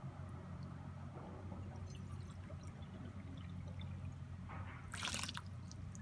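Water pours into a measuring cup until it overflows, a faint low trickle building quietly, then a brief splashing spill near the end.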